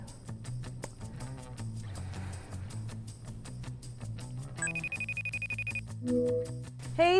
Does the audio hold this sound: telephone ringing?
yes